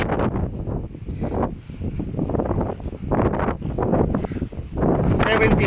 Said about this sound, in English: 75 kilometer per hour wind.